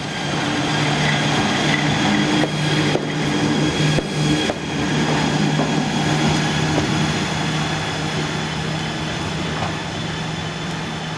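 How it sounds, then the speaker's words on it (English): Class 181 electric locomotive, ex-works unit, passing through a station on intercity service, a steady loud rolling roar of wheels and rail with a sustained hum across the whole stretch, close by and without talk. "Here an Ex-Works 181211 passes through the station."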